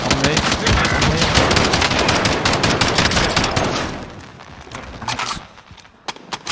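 Rapid automatic gunfire from a Call of Duty: Warzone match, dense and loud for the first four seconds, then thinning into scattered shots and bursts.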